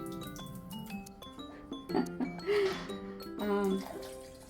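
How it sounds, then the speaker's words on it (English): Flattened rice flakes (poha) rinsed with water in a bowl at a kitchen counter: close, soft watery sloshing, trickling and light clinking in irregular bursts, with some background talk. "I think 1 rinse is okay, and then just add a little bit water to cover the rice flakes"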